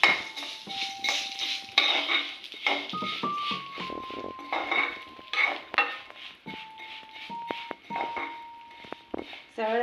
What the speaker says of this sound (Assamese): চেৱাইখিনি কম জুইত দি কিনে লৰাই থাকিব